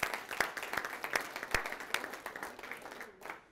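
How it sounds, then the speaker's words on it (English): Audience hand clapping during a motivational talk on achieving success, with a handful of sharp, separate claps standing out over a softer spread of applause, moderately loud and fading toward the end. "Well, I want to give a hand clap for that one."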